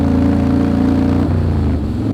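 Harley-Davidson motorcycle with a very loud aftermarket exhaust, its engine giving a deep throbbing rumble with strong low harmonics, close and loud, settling slightly in pitch partway through.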